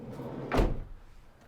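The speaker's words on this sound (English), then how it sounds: "we have a side loading door" A single heavy sliding side door on a 2016 Ford Transit Custom van slides and thuds shut, a short sharp bang against quiet background noise.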